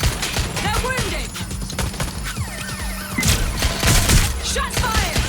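Gunfire in Watch Dogs Legion, rapid bursts of shots and impacts crackling continuously in a chaotic firefight, loud and close, with voices shouting over the shooting.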